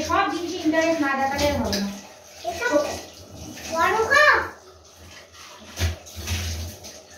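Water runs while dishes are scrubbed and washed in a home kitchen in Bengal, a steady splashing wash kept low under the talk of a woman and a child.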